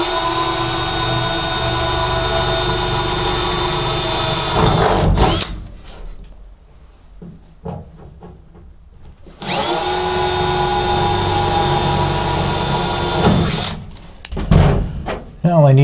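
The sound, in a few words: power drill drilling a small 1/8 inch hole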